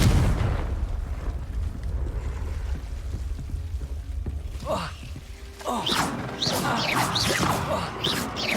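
A fiery Confringo spell in Hogwarts Legacy bursts with a loud explosive impact, followed by crackling, debris-like clatter and sharp bursts that keep flaring over a rumbling low end for several seconds.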